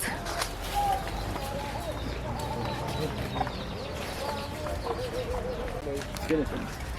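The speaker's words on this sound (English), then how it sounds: "There are some chickens here, and they call them spice chickens because they eat a lot of spices." Chickens on a spice farm in Zanzibar cluck and call here and there over constant outdoor background noise, with a voice talking throughout.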